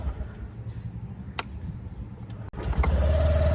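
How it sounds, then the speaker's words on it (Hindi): Honda Activa 2024 scooter starting quietly after a soft rumble, then its engine settles into a low, steady idle with a slight rise in revs near the end, close by and alone. "बिल्कुल साइलेंट हो रही है स्टार्ट, और थोड़ी देर के लिए RPM बढ़ रहा है, फिर साइलेंट हो रही है।"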